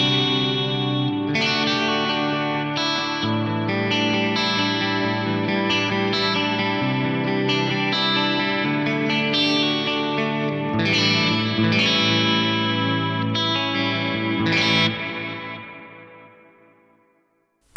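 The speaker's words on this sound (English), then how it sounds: "Gorgeous drippy spring reverb on there as well." Guitar played through a Strymon Volante echo pedal with spring reverb, chords and notes repeating in rhythmic echoes that layer and smear together, then a long trailing decay fading to silence at the end.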